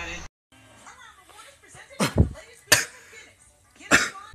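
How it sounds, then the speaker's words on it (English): A person coughs in harsh, sputtering bursts after vaping, three loud hacking fits spaced across the moment, with some chatter and laughter around them. "That's a smoker's cough."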